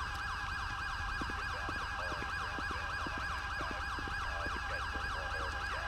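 An ambulance siren wails in GTA 5 during a highway patrol mod session. The rapid, steady rising-and-falling wail repeats continuously throughout, clear but moderate in level, with no talk over it.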